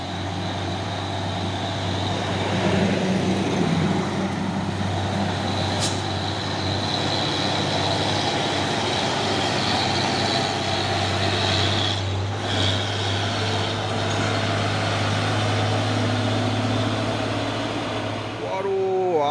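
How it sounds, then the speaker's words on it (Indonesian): A heavy six-wheel-drive Hino tronton truck engine hauling an 18-ton load drones steadily with a deep, constant rumble, close and loud, under continuous road noise. "Truk tronton Puso Oren ini ya. 6x4 dan di belakang juga ada truk box."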